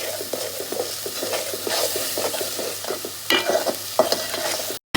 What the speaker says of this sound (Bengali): এবার মশলাটা ভালো করে কষিয়ে নেব।